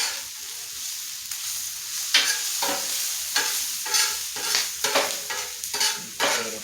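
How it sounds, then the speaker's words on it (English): Fat renders and melts in a hot pan with a steady bright sizzle, broken by repeated scraping stirs of a utensil in a loose rhythm, close and fairly loud with no voices. "So we're going to let this render down a little bit here, melt down"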